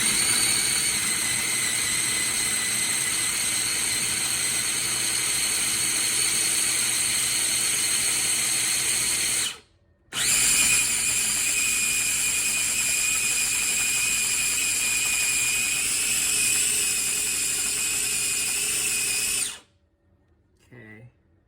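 A food processor on its chop setting whirs loudly and steadily while blending hummus, running in two long bursts separated by a brief pause, with a short quiet stretch at the end.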